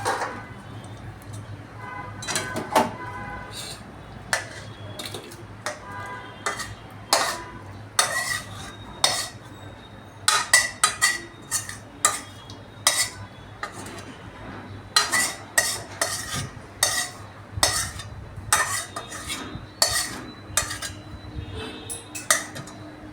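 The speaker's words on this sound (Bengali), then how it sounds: "সবজিটা এখন আমি বাটিতে ঢেলে নেব।" A cooked potato and soybean nugget curry in yogurt gravy is scooped from a pot into a bowl, with repeated sharp metal spoon clinks and scrapes against the vessel in an irregular rhythm, close by.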